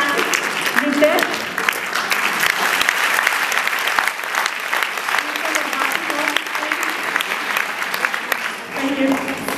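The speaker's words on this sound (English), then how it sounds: "Also, we clap for our pianist" Audience at a violin concert in Mumbai's NCPA applauds the pianist with steady, dense clapping across the whole stretch, loud and close, with a few voices faintly mixed in.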